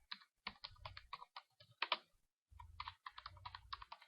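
Typing on a computer keyboard while entering text into an Excel 2013 spreadsheet: quick bursts of close, crisp key clicks in two runs separated by a brief pause, with no voices.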